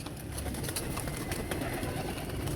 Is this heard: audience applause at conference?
no